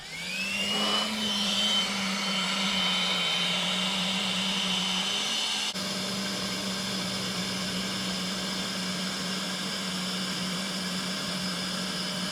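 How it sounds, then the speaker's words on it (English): An electric air pump inflating a camping mattress, a steady loud whirring drone with a rising whine at the start and a slight shift in pitch midway, close up and alone. "let's pump up the mattress"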